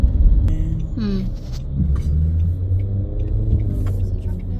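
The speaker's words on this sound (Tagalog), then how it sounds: "There's a truck now." A truck rolls past on a city road with a low, steady rumble and engine drone, loud and near, alongside a faint squeal and scattered traffic noise.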